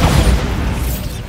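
A Bombarda spell explodes in Hogwarts Legacy, giving one short, loud, deep boom that quickly fades.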